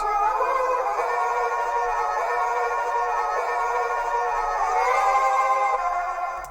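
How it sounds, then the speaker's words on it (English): A bright, pitched-up sampled sound plays continuously with dense harmonic layers, steady and loud throughout, no voices. "I recorded the entire sample chop and pitched it up"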